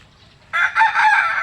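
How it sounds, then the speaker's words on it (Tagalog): A broodcock rooster crows loudly and close by on a farm, one sustained cock-a-doodle-doo that begins after a brief quiet moment. "ipapakita ko sa inyo yung mga manok na magaganda"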